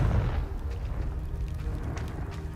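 Confringo fire spell blast in the Hogwarts Legacy video game, a deep low boom at the start that decays into a rumbling tail with faint crackles and scattered light pops.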